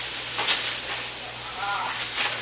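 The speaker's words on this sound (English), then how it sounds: "You're going to get them nice and golden caramelized with the butter in there." Onions fry gently in butter in a pan, a steady soft sizzle with faint stirring, close and even throughout.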